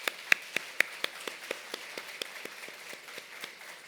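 A church congregation at a Sunday service applauds in welcome, faint, distinct handclaps ticking along in a loose, steady rhythm, with a few sharper claps near the start.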